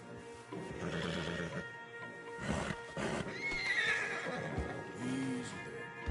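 Horses in the video game Red Dead Redemption 2 whinny and snort, stallions being led, with hooves clip-clopping and a couple of sharp neighs over steady movement noise.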